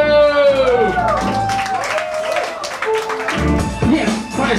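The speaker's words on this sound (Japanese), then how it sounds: "ドグマジャパンとシーラドマンスに大きな拍手" A crowd at a live party applauds and cheers the performers Dogma Japan and Shiladmans, the clapping spread out beneath a loud, drawn-out voice calling over it.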